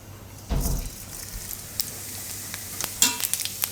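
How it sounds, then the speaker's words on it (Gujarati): Cumin seeds hit hot oil with a sudden burst of sizzling, then settle into a soft, crackling fry with scattered pops, close and fairly quiet. "અને તેલ આપણું ગરમ થઈ ગયું છે તો તેલમાં આપણે થોડુંક જીરું નાખશું"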